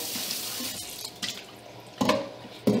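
Tap water running into a sink while a funnel is rinsed during home colour film developing, a steady close wash of water with a few louder splashing bursts near the end.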